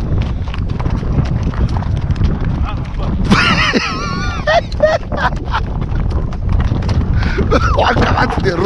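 A horse trots along a rural track in steady clip-clop hoofbeats over heavy wind noise, with people talking and shouting throughout.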